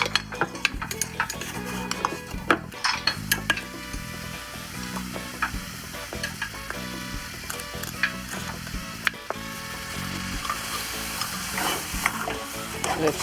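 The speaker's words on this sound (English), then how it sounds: "Let's stir a little bit and let it cook for 5 to 7 minutes the most" Chunks of pineapple and sugar sizzling in a pan while being stirred, with repeated scraping and clinking of a utensil against the pan over a steady frying hiss.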